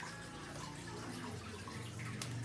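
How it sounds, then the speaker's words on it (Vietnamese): Lime juice and fish sauce are poured together in a kitchen for a chicken salad dipping sauce, a soft continuous trickle of liquid heard close but quiet throughout. "rót một miếng nước cốt chanh với nước mắm mình đó"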